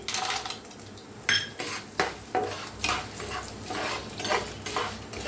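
Chana dal and peanuts roasting in a pan alongside urad dal, with a spoon stirring and scraping in repeated strokes over a low, steady sizzle; close and fairly quiet, without any talking.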